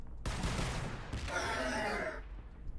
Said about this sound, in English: The aggressors one step forward, and we'll throw this grenade at them.